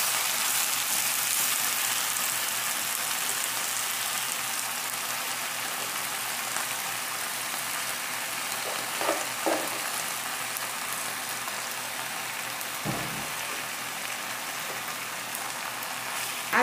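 Spinach sautés in garlic and oil in a pan, giving a steady, even sizzle like light rain that holds throughout, with a few soft knocks of stirring near the end.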